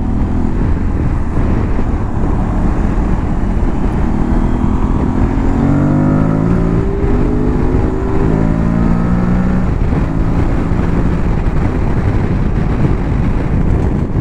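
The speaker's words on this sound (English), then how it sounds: "So obviously you have to work the motor a bit harder being only a 660, but it's plenty eager enough." An Aprilia Tuareg 660 motorcycle engine revs steadily while riding, loud and continuous, with a rising and falling pitch as it pulls through the gears and wind noise running underneath.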